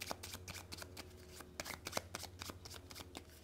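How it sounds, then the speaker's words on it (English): A deck of playing cards being shuffled during a solo tabletop card game, with quick riffling bursts and soft slaps repeating steadily, close and fairly quiet. "He shuffles his cards."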